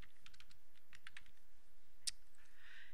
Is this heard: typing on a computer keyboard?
yes